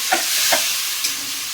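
A mother fries fish in a pan at home, a steady close sizzle with a few quick scraping stirs of the spatula near the start, and no talk over it.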